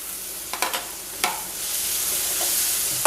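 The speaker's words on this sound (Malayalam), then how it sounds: "എല്ലാം കൂടെ നന്നായിട്ട് വഴറ്റുന്നു" Vermicelli pulao mix with coriander and mint sautés in a pan, with a few quick spatula scrapes and taps early on over a loud, steady sizzle that swells and holds to the end.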